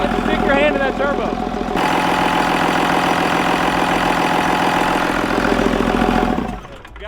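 A Cummins diesel engine idles steadily with a dense, rattling, knocking throb, loud and close, running for several seconds before shutting off and winding down near the end, with voices talking over it.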